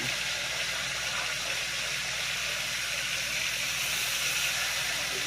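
Steady, loud sizzling of a breaded steak frying in hot oil, a continuous bright hiss with no pauses.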